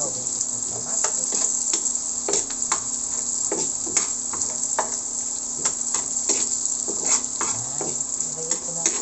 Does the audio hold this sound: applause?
no